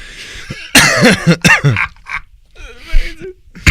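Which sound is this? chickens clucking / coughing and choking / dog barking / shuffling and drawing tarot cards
coughing and choking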